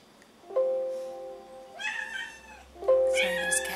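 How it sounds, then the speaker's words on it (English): Cat meowing indoors, two drawn-out meows with a rising, wavering pitch and a shorter call near the start, fairly faint and heard without speech. "there's a cat going on"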